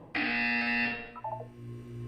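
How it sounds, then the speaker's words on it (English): A loud electronic buzzer blares in one continuous, harsh tone for about a second, then fades into a few faint, short tones over a low hum. "When you hear the buzzer, look down at the floor."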